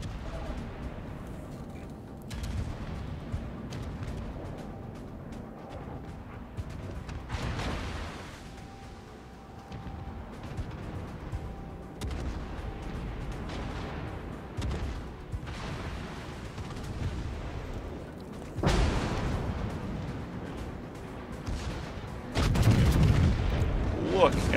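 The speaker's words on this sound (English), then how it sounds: "All the fire going downrange." Video game weapons fire pours downrange as a sustained rumble of shots and booms, with louder bursts building toward the end.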